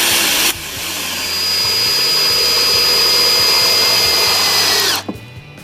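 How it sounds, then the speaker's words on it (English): A power drill drives a Type 17 drill point screw into a decking board close to its edge. A loud, steady whirring drone with a faint high whine holds for about four seconds, then cuts off abruptly. "we're taking a Type 17 drill point screw and screwing it into a piece of decking board"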